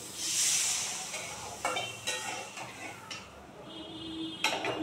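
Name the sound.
water added to frying bitter gourd and potato in pan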